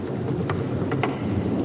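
Steady rain falls outdoors in a forest during a chimpanzee display, a dense hiss with a low rumble beneath and a few brief sharp knocks.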